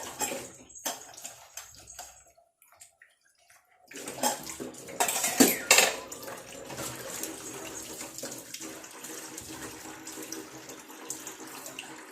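Quiet clinks and scrapes of dishes give way to running tap water splashing into a sink, with dishes rattling and knocking as they are washed.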